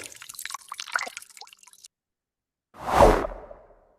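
AI-generated sound effect of a whoosh and water drops simulating ink: scattered dripping, splashing droplets for under two seconds, a gap of silence, then a single swelling swoosh that rises loudly and fades out.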